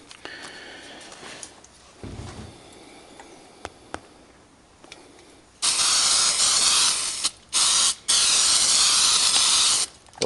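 A can of spray adhesive hisses loudly as it coats leaves for a leaf composite plate, two long continuous bursts with a short break between, after some quieter handling noises.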